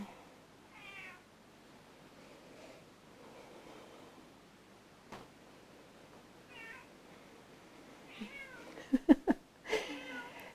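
A cat meows several times, faint and spaced out at first, then a closer, louder cluster of meows with some thumps toward the end, against a quiet room hiss.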